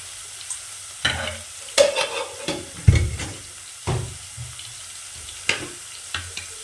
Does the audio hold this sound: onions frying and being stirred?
yes